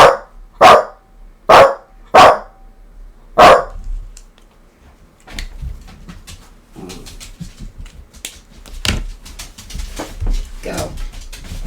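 A dog barks five times in sharp, loud bursts at the start, then falls quiet while people talk and move about in a room where a tattoo artist is coloring skin.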